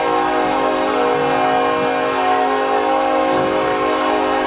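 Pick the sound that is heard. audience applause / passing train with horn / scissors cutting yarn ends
passing train with horn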